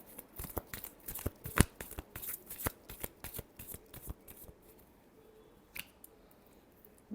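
Tarot cards being shuffled close up, a quick run of crisp riffling flicks and slaps for several seconds, then a few scattered taps as the deck settles, with no talk.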